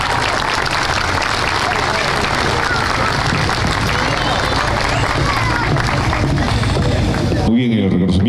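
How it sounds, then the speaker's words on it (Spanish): Loud, sustained applause from a large audience at a school alumni band's gala concert, with crowd noise and voices mixed in throughout before it cuts off abruptly near the end. "Fuerte las palmas para mi amigo."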